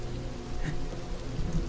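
Steady rain sound effect playing as background ambience in a Warhammer tabletop role-playing session, a continuous broadband hiss with soft patter, no thunder.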